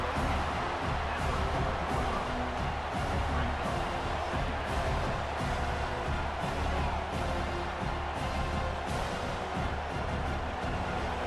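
Crowd noise at a college football game between the ASU Sun Devils and Utah Utes in a stadium, a steady dense roar of many voices at a distance, continuous and even with no distinct cheers.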